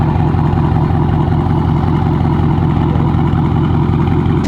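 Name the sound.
2021 Dodge Charger 392 with straight-piped exhaust idling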